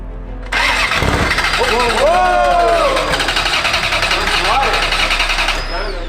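A Ferrari F355 with a gated manual gearbox, abandoned and under rebuild, cranks over and sputters as if flooded, its engine churning loudly and unevenly for several seconds while people talk over it nearby.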